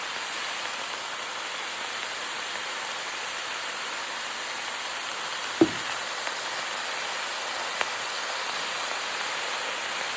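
Spinach thoran cooking in a pan gives a steady, even sizzling hiss like light rain throughout, broken by one sharp knock of a utensil midway and a faint tap later.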